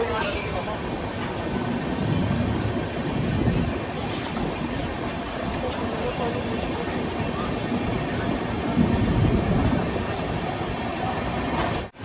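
The 15621 Kamakhya–Anand Vihar Express rumbles past near Khurja station with a steady, loud roar of wheels and carriages, heard from aboard another train, and faint voices underneath.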